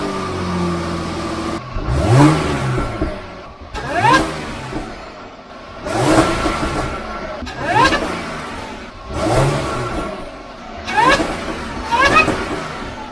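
A supercharged car engine starts, then is blipped through six evenly spaced revs, each rising quickly with a supercharger whine and falling back to a rough idle, heard at close range.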